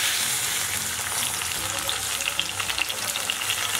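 Tomatoes drop into a hot pan of gongura (sorrel leaf) chutney mixture in an Andhra-style kitchen, giving a steady, close, loud sizzle and crackle of frying that runs throughout with no talking.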